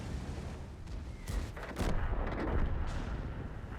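Heavy 15cm tank gun firing in World of Tanks, a couple of booming shots with rumbling echo over quiet game ambience, fairly faint and distant.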